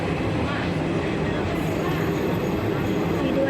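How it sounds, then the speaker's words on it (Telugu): A WAG-9 electric locomotive-hauled train at Nallapadu station gives off a continuous, loud rumble and rolling rail noise, with a voice speaking over it. "ఇదిగోండి ఓల్డ్ ఇంజిన్ ఇదిగోండి ఇది వ్యాగ్ 9 ఇంజిన్"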